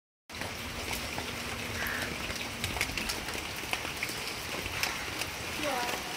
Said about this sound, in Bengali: এই যে বৃষ্টি হইতেছে